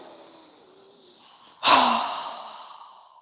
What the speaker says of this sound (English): Inhale. Strong exhale.